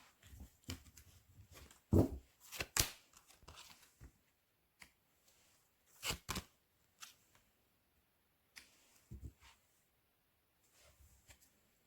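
Tarot cards drawn and handled in a quiet room, with soft scattered shuffles, slides and taps spread across the stretch, a few sharper flicks standing out.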